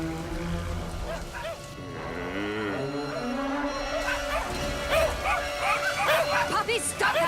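Animated puppies bark and yip in quick, high-pitched bursts, several overlapping, with voices and music running underneath.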